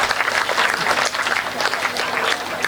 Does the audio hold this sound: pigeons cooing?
no